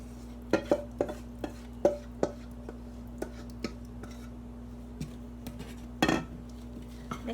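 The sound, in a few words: mixing wet and dry pancake ingredients in a bowl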